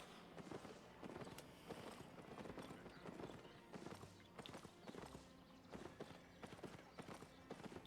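Rhythmic clip-clop of donkey or mule hooves in the fantasy game Albion Online, steady walking beats close by with a brief game neigh, no speech.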